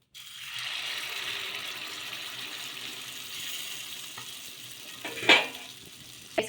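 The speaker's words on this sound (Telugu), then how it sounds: "ఇప్పుడు ఇదే విధంగా కొంచెం ఆయిల్ అయితే వేసేసుకొని మళ్ళీ ఒక గరిట పిండి అయితే వేసుకోవాలి" Corn dosa batter hitting an oiled pan bursts into a sudden sizzle, then keeps frying with a steady, close hiss, and a brief utensil clatter sounds near the end.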